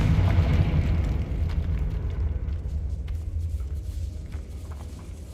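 A Confringo fire spell in a video game bursts into a loud, low blast whose rumble slowly fades away over several seconds, with no voices.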